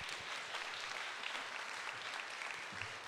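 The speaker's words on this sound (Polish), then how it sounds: "brawa dla pana ministra rolnictwa" Steady applause from a crowd at an awards ceremony, dense clapping that holds at an even level throughout, somewhat distant and soft.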